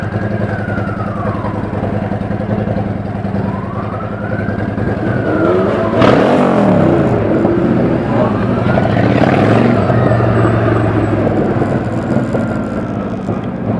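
A Porsche engine revs loudly and close, its pitch sweeping up and falling back in repeated rises over a steady droning idle, with a sharp burst of throttle in the middle.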